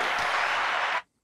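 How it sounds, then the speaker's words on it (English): An audience at a podcast applauds a guest, a dense burst of clapping lasting about a second before cutting off abruptly. "Why don't we give this guy a round of applause?"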